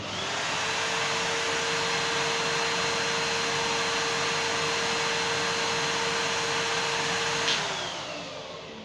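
A full-size Numatic Henry Xtra vacuum cleaner runs with a steady, even whine and airflow hum that holds constant throughout, then begins to wind down at the very end.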